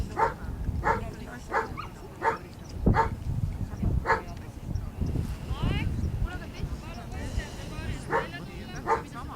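A dog barks repeatedly in sharp, evenly spaced yaps during an outdoor obedience stay exercise, with people talking in between and over the barking throughout.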